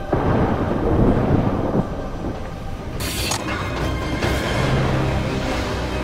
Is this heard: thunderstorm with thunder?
yes